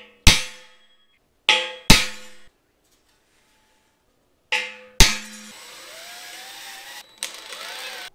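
Center punch struck with a hammer to mark steel X beams for a scissor lift build, several sharp ringing metallic clangs spaced apart, loud and close, followed by a faint lingering hum.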